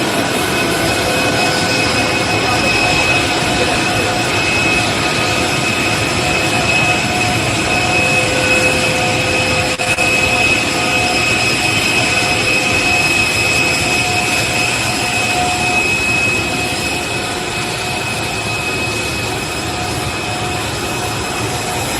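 Loud, steady roar of Air Force One's jet engines on the presidential plane, a continuous broadband rumble with sustained whine tones holding evenly throughout, no voices.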